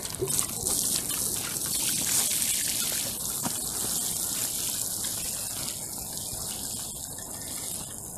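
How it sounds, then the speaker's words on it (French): Water pours steadily onto garden soil in March, freshly sown seeds topped with potting compost, a continuous close gushing splash lasting throughout with no talking. "et on arrose"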